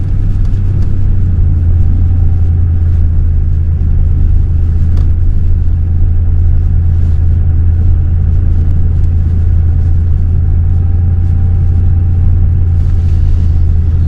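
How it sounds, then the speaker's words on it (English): A vehicle four-wheels across a sandy beach through dunes on a rough, windy day, its engine a steady, loud low rumble throughout with wind buffeting, no talking. "A little four-wheeling through here."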